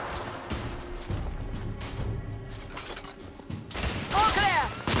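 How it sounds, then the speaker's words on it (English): Suppressive gunfire in The Order 1886 combat, rapid bursts of shots and impacts with shouting voices over them, growing louder toward the end. "Lay down suppressive fire!"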